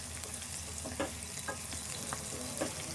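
Green chillies sizzle steadily in hot oil in a pan while cooking upma, with occasional stirring scrapes over the continuous close frying hiss and no talking.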